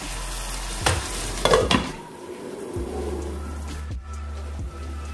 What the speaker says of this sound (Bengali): এটাকে আমি এখন এইভাবে ভালোভাবে কষিয়ে নেব